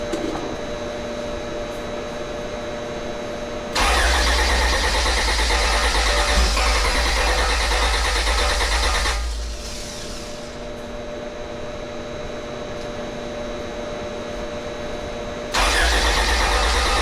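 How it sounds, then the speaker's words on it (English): A 1997 Honda Del Sol with a swapped B18C1 engine cranks in two long, steady bursts of starter whirring, separated by a quieter idle-like hum; no voices are heard. "trying to start the car 3 or 4 times"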